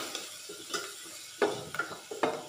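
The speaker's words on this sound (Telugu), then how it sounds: "ఇప్పుడు అల్లం వెల్లిపాయ వాసన పోయేంత వరకు ఇలా కలుపుకుందాం." Ginger-garlic paste frying in oil for an aloo and brinjal curry, stirred with a spoon that scrapes the pan in a few separate strokes over a soft, steady sizzle. Nobody speaks.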